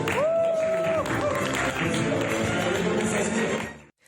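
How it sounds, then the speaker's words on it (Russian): Applause at a Tatarstan media ceremony honouring television and press organisations, a steady broadband clatter of many hands with a sustained tone over the opening second, then fading out near the end. "аплодисменты"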